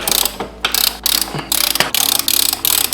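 A ratchet wrench loosens a chain tensioner nut, giving loud, close, rapid clicking bursts in repeated strokes with brief pauses between them.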